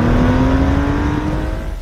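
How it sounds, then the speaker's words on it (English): A sports car's engine revs loud and close, a sustained throaty drone with a steady tonal hum, holding a constant pitch before easing slightly toward the end. "they don't make cars that sound like this anymore."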